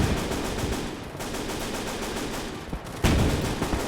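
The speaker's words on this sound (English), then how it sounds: "I wonder if we could tell all the guns to stop firing to reload." Guns fire without a break in a Gates of Hell battle. The dense, rolling volley stays loud throughout, and one heavier blast lands near the end.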